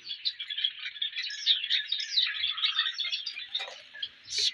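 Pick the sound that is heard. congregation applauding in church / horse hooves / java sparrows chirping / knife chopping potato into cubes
java sparrows chirping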